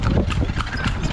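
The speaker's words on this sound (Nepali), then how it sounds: "घोडा सफारी चल्दैछ हाम्रो सौरामा" Horse hooves clip-clop on a horse safari at Sauraha, Chitwan, a brisk, close run of steady hoofbeats over a low engine-like hum and faint background voices.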